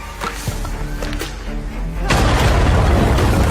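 A thrown bomb going off in a film action scene gives a sudden heavy boom that swells into a loud sustained rumble, preceded by scattered thuds and movement noises.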